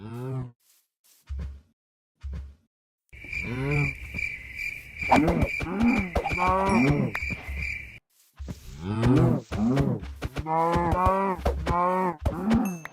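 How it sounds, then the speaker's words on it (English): Minecraft cows moo in several drawn-out, wavering calls, close and fairly loud, over a thin, steady high insect-like tone and brief game sounds. "Nice. Cows."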